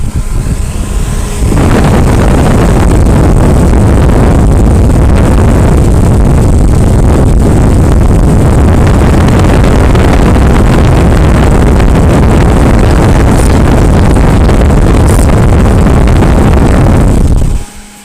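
A Dometic Duo Therm 9,000 BTU RV furnace runs on a floor test after repairs, with a shop-vac wand as an exhaust extension, giving a loud, steady, close roar for about sixteen seconds before it abruptly cuts off.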